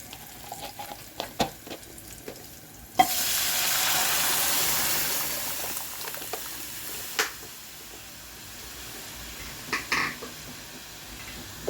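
Dal tipped into a hot pan of tempered oil with curry leaves bursts into a loud, close sizzle after a few clinks, then the hiss slowly fades with stirring scrapes and a couple of knocks.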